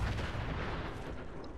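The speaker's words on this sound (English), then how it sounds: "Why are there explosions everywhere?" Explosions boom in the video game Fallout 76, a faint, muffled rumble of distant blasts rolling on continuously.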